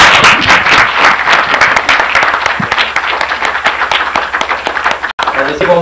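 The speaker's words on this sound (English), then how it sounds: "Let's give one more round of applause for Judge Jim Gray, everybody." An audience at a talk by a judge gives dense, continuous clapping and applause that stays strong throughout, with a brief break near the end and faint voices in the background.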